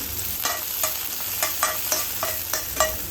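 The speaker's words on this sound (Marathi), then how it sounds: "मिरच्या तेलामध्ये परतून घ्यायचे आता यामध्ये चिरून घेतलेला कढीपत्ता घालायचा आहे" Chopped curry leaves and green chillies frying in oil, a steady sizzle punctuated by about eight rhythmic scraping strokes of a spatula stirring the pan, close and clear with no voices.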